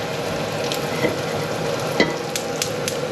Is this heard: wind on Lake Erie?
no